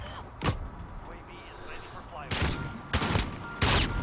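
Desert Eagle shots fired in Call of Duty Modern Warfare, four loud, sharp single gunshots spaced about a second apart, with faint game effects between them.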